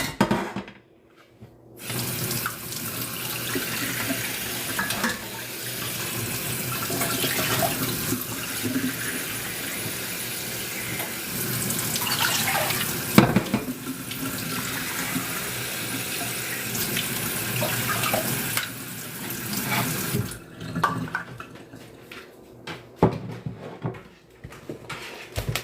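Kitchen tap water running into a pot for cooking potatoes, a steady close rushing splash that starts after a brief pause, fluctuates as the pot fills, then stops near the end with small clinks, no talking.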